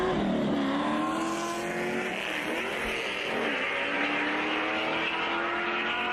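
Engines scream in a drag race between a supercharged LS-swapped Nissan and a red S550 Mustang, a dense sustained roar with rising gear-change sweeps heard from trackside.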